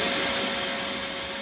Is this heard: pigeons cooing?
no